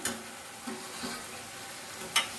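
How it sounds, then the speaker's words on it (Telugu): Potato pieces for aloo manchurian are stir-fried on a high flame, giving a continuous close sizzle with a few soft stirring scrapes and one sharper clink near the end. "ఇప్పుడు ఇంకా ఆలు వేసేద్దాం"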